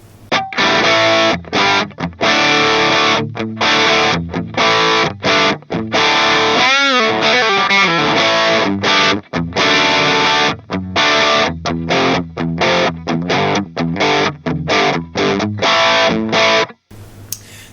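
A crunchy overdriven electric guitar rings out through a Vintage 30 cabinet, loud and upfront, with chopped chords, a sliding bend near the middle and short pauses, heard alone without speech.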